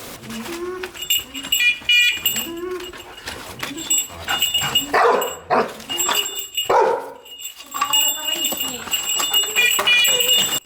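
A search and rescue dog barks during training to find a hidden live person. The barks are loud, repeated and excited, come in clustered bursts at close range, and are mixed with people talking.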